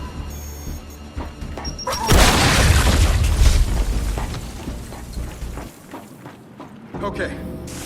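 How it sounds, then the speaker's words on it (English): A frag grenade explodes in the Gears 5 video game with one loud, close, heavy blast that rumbles and decays over several seconds amid game noise, followed by quieter debris and clatter. "Throwing frag."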